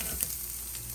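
Garlic frying in a pan with chana dal while an egg podimas is being made, giving a steady close sizzle with a few soft stirring scrapes throughout.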